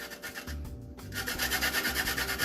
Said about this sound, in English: I'm gonna add some lime zest to the rice itself.